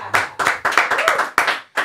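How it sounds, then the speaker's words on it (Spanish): Clapping for a contestant at a Spanish-language talent show in Puerto Rico: a few sharp, close bursts of hands coming in uneven pulses, with brief gaps between them and a short pause near the end. "Trump con 20, un aplauso a Trump"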